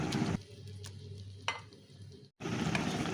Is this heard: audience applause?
no